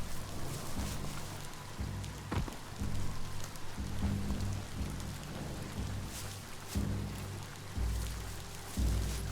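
Steady rain pours in Mutant Year Zero, a continuous hiss of drops on surfaces with occasional heavier low thumps, heard alone without talk.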